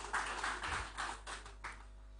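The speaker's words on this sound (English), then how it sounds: "Please, a round of applause for him." Scattered hand claps from a small audience at a business forum, a handful of distinct claps in a loose, uneven rhythm, moderately close and fading out.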